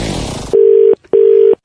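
Telephone line tones sound during a comic radio prank call: after a brief burst of noise come two long, steady, loud beeps, evenly spaced with a short silent gap between them.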